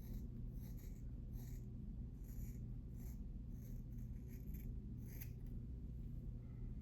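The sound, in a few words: scissors cutting off dreadlocks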